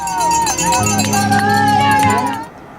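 Parents cheer their children on through a kids' triathlon, a loud, continuous crowd of voices with cowbell clanks and whoops rising over the noise, close and steady before fading at the end.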